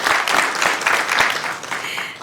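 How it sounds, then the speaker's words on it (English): Applause at a Sacramento City Council meeting honors a newly elected school trustee, a full, steady burst of many hands clapping in the chamber, tapering slightly at the close. "everyone, round of applause to her."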